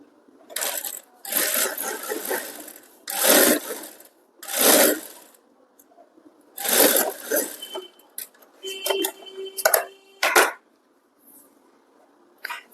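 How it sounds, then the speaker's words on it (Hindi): A sewing machine running close by as it stitches piping onto a princess-cut blouse, several loud whirring bursts of stitching separated by short quiet pauses, with clicks and handling noise between runs. "यहाँ पर हम धार सिलाई लगा देंगे"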